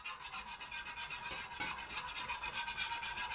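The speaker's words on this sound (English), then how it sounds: "So all you need is a little whisk" A small whisk working a pan sauce during deglazing, producing soft, rapid scraping and rasping strokes against the pan bottom with a faint sizzle beneath, close and fairly quiet.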